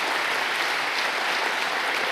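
A church congregation applauds during a Spanish-language Sunday service, a steady, dense wash of many hands clapping that holds evenly throughout without pause.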